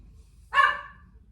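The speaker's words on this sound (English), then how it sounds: "That's my dog." A Shih Tzu gives a single short, sharp bark partway through, near and clear against an otherwise quiet room.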